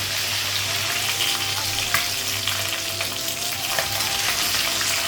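Fish frying in oil in a home kitchen, a constant crackling sizzle with scattered pops close by, steady throughout with no speech.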